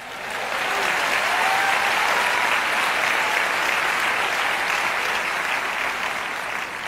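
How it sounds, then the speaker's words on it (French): A church audience gives sustained, loud applause and cheers during a French-language sermon, a steady wash of clapping lasting several seconds without any speech. "Allez, acclamons le Seigneur."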